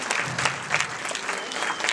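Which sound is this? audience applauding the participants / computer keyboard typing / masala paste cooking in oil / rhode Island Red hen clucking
audience applauding the participants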